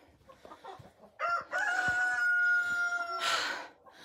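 Chickens clucking and a rooster crowing inside a farm coop, a long loud crow over ongoing clucks and cackles from nearby hens, with no talk.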